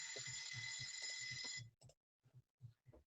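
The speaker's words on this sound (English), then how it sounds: "a loud alarm sounded." A loud, continuous alarm bell rings for about a second and a half, then cuts off abruptly, followed by a few soft, scattered thumps in near silence.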